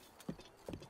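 Horse hooves clip-clop twice in quick succession in The Legend of Zelda: Breath of the Wild, soft and brief over faint game background.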